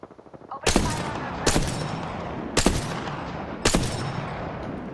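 Gunfire in the video game Apex Legends: four loud, sharp shots spaced about a second apart, each with a booming tail that rings out over a steady background rumble.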